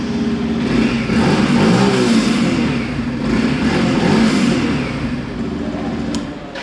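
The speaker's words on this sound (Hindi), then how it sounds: "तो एक बार मैं स्टार्ट करके एग्जॉस्ट नोट आपको सुना देता हूँ इसका।" A 2021 Yamaha FZ 150cc motorcycle runs close by with a sporty exhaust note, its engine rising and falling through several moderate revs over a steady idle.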